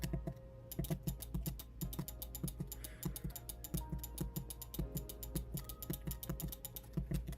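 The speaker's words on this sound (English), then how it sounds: "a lot of this will just be me clicking my mouse and you guys hearing that" Rapid, fairly regular clicking and tapping at a computer desk during a Minecraft creative building session, close and dry with no talking.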